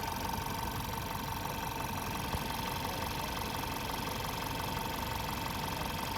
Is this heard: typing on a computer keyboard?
no